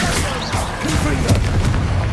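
A Confringo blast spell from Hogwarts Legacy goes off as a dull booming thump with rumbling low crackle, set amid game sound effects and a speaking voice.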